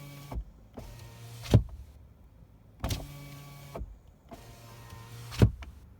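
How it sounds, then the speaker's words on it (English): Power window motor on a Chevy Bolt electric car, heard in three separate runs, each a steady mechanical whir ending in a thump as the glass stops. Close and fairly quiet, with short pauses between runs and no talking. "When you roll down the window on the driver's side or the passenger side"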